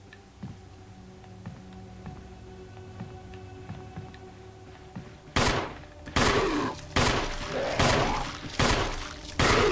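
Gunfire in the survival horror game Resident Evil HD Remaster: several loud, sharp shots in a rapid, evenly spaced burst after a quiet stretch of faint ambient hum and ticking.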